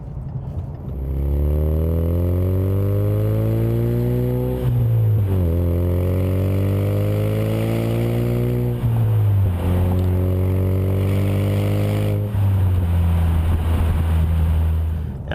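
A Ford Mustang EcoBoost fitted with an MBRP Street cat-back exhaust cruises at highway speed, giving a loud, steady, slightly deep drone. The pitch dips and climbs a few times as the revs shift, with road noise underneath.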